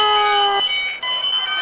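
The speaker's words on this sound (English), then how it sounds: "Why is the fire alarm going off?" A fire alarm shrills continuously at close range, a loud steady electronic tone with layered harmonics that shifts pitch partway through.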